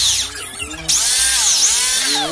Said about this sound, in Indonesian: Ini masih bor 3 mili.